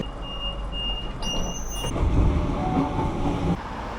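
A train ride in Sydney heading to the stadium: steady interior rumble and clatter, with a brief high-pitched squeal early on before the low rolling noise swells louder.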